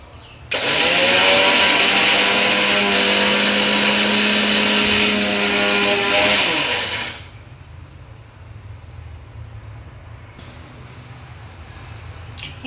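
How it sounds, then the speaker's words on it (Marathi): A kitchen mixer grinder whirs loudly as it grinds roasted barnyard millet and sago into flour, a single sustained motor run of about seven seconds that then cuts off, leaving a quiet room hum. "आपण मिक्सर मधून काढून घेऊ।"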